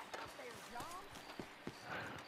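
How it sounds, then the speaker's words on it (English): Horse hooves in Red Dead Redemption 2 land as a few spaced, crisp clip-clops beneath steady conversation. "Oh, I was on my horse."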